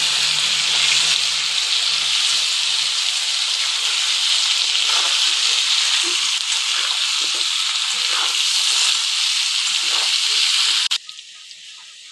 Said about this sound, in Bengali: আলু আর পেঁপেটাকে বেশ সময় ধরেই কিন্তু ভাজতে হবে